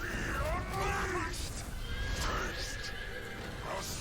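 A horse in the Soul Calibur 6 fighting game lets out loud, repeated whinnies over in-game action, while a voice talks along with it.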